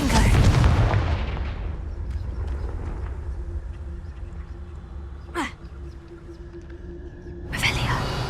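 Confringo blasting spell explosion in the game Hogwarts Legacy: a booming blast at the start that decays into a rumbling tail, followed by sharper whooshing spell cracks later, moderately loud.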